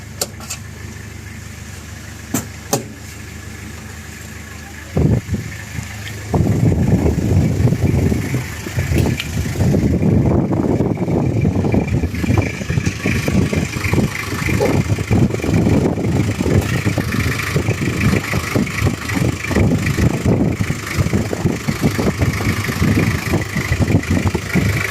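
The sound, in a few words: Toyota Kijang Krista 2003 diesel engine idling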